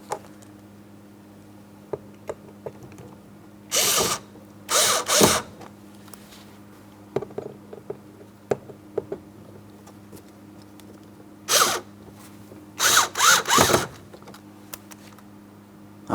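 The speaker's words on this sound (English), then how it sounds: "To install our 2 Phillips head screws, we'll just carefully get them in position" Power drill driving Phillips head screws into a 2003-2007 Cadillac CTS front door panel, several short whirring bursts in quick clusters separated by quiet pauses and light handling clicks.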